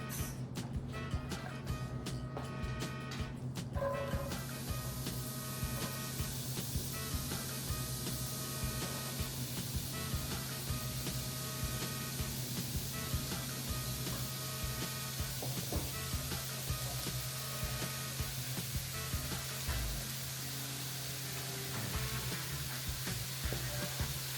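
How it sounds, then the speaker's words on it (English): Onion, zucchini, mushrooms and garlic sauté in a pan over medium heat, giving a steady, continuous sizzle with occasional stirring scrapes, close and alone without talk. "now I'm gonna cook my onion, zucchini, mushrooms, and garlic for 10 minutes"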